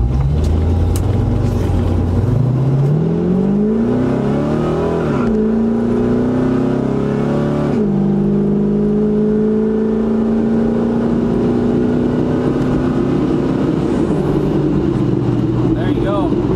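A 1972 Oldsmobile Cutlass 442 V8 engine runs on the road, rising through gears in long pulls with a steady loud rumble, while someone talks over it from inside the car.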